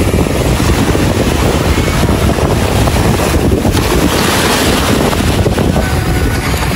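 Strong ocean waves roll in at a beach at low tide, making a loud, constant roar of surf heavily mixed with wind buffeting the microphone, with no talking.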